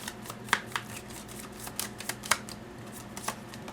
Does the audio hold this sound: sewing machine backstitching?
no